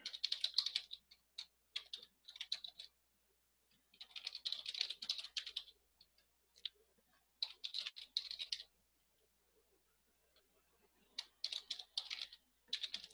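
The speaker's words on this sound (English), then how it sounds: "You can see how bad I am at typing now." Typing on a computer keyboard during a coding session, rapid close clicking in bursts separated by short pauses, with no talking.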